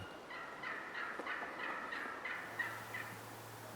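Wild turkeys gobbling repeatedly during a turkey hunt outdoors, a steady series of rattling calls from a short distance, moderately loud with no talk.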